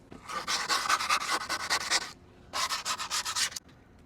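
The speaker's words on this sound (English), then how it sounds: "You're gonna stick them on your fingers here and sand the edge one more time." Skateboard grip tape edge sanded with a folded scrap of grip tape held on the fingers, rough rasping strokes in two close bursts, a long rhythmic run then a shorter one after a brief pause.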